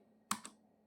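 A single Enter key is pressed on a computer keyboard while entering a voucher in Tally Prime accounting software, a sharp close click followed quickly by a softer release tap.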